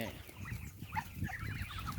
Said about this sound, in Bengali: মুরগির খামার